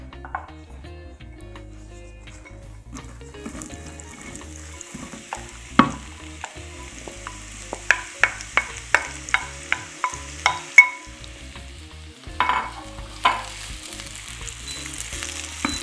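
Red onion frying in hot oil for a red onion jam, a soft steady sizzle broken by a run of sharp, evenly spaced spatula taps and scrapes against the pan, no voices.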